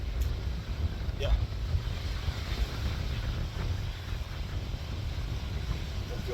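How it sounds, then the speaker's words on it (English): Hot, dry wind buffets the microphone on a desert hiking trail in Utah, a steady low roar that rumbles on without a break for several seconds. "the wind is pretty much in my face the whole time"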